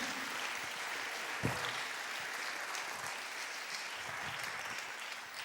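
A church congregation breaks into sustained applause, a dense, even wash of clapping that fills the room from start to finish with only faint murmurs beneath.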